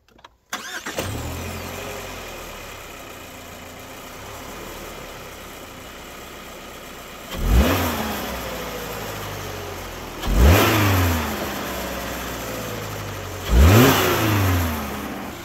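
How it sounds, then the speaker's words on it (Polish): A 2024 Subaru Forester 2.0i-L e-BOXER hybrid starts up and settles into a steady idle, then gives three separate quick revs that rise and fall back, close and fairly loud with no talk. "posłuchajcie silnika"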